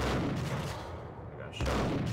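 Gunfire in the video game Max Payne strikes the player character, heard as loud, dense bursts of shots at the start and again near the end, with a dip in the middle.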